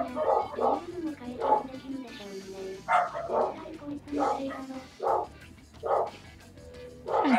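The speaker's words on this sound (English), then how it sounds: "you get to hear the dog barking" A dog barks and yips repeatedly in short bursts, fairly close, mixed with people talking over it.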